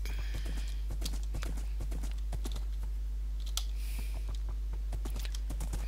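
Rapid hoof clip-clops from a galloping horse in a video game keep up a quick, steady rhythm over a constant low hum, with a brief soft whoosh midway.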